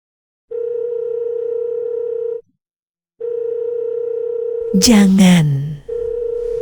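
A telephone dial tone hums steadily when a call is placed, cutting out for about a second before resuming loud and close. A brief voice-like sound briefly overlaps the tone near the end.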